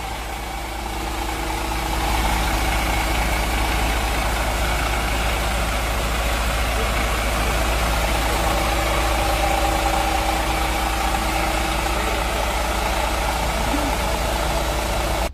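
A brand-new Mercedes Tourismo coach engine idles steadily with a deep, constant low hum and mechanical whir, heard close with the engine hatch open, rising slightly in level after the first two seconds and holding evenly throughout.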